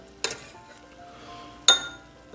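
Noodles go into a bowl with two sharp, close clinks of dishware about a second and a half apart and a quiet stretch between them.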